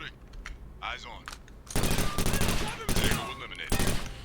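Gunfire in the tactical shooter game Takedown: Red Sabre: quiet game ambience, then loud sustained bursts of automatic fire with short gaps between them, with a voice heard at the start.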